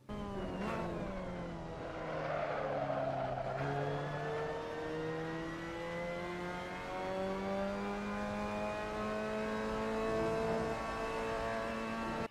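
A Mazda MX-5 Cup race car in Assetto Corsa at the Sachsenring brakes and downshifts, its engine note sliding down in pitch, dipping and then climbing steadily as the car pulls away, continuous and alone without talk.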